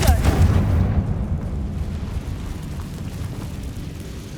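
A Confringo spell explosion in Hogwarts Legacy: a loud, close boom bursts at the start, then a rumbling roar trails off and fades over several seconds.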